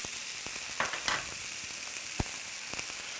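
Chicken breast cooking in a hot pan, with a loud, continuous sizzle up close and a few sharp pops and spits breaking through, no voices.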